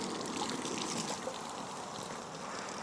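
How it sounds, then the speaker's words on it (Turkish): Water runs steadily along a stream beside a pool on a full-moon evening, a continuous soft rushing and trickling wash that stays even and moderately close throughout. "Su çok güzel bir şekilde akıyor."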